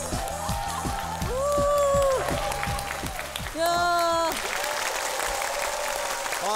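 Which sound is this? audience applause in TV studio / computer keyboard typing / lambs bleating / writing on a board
audience applause in TV studio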